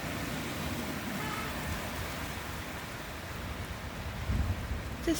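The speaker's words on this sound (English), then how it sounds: "It's pissing down with rain." Heavy rain pours down hard and fast outdoors near a field, a dense, steady hiss of drops filling the whole stretch at an even, fairly soft level, with no speech.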